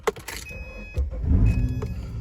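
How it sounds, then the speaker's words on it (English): The driver's electric power window of a used car hums as its motor drives the glass, following a few faint clicks, with a low whirring run that builds and holds close by, no voices. "So the driver's window goes up, down, and come back again."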